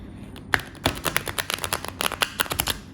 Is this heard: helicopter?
no